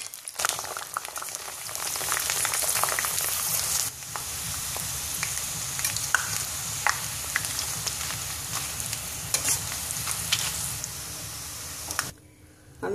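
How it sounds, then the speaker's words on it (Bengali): Potato chips fry in hot oil with a busy, crackling sizzle, dense and steady at first, then slightly thinner with scattered pops and splatters, close and moderately loud, ending abruptly. "আমি তেল গরম করে নিয়েছি, আমি আপনাদের চিপস ভেজে দেখিয়ে দিচ্ছি।"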